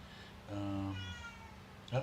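A cat gives one clear, drawn-out meow close by, rising and then trailing off, followed by a short sharper sound, with a voice talking faintly in the background.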